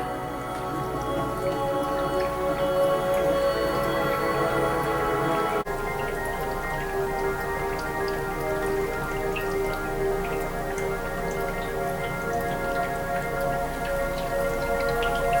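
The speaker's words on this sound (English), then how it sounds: "See, the bubbles in the water go up to about right there." Water in an HHO bubbler on a table bubbles and drips steadily, a close, continuous patter with a faint hum under it and a brief break partway through.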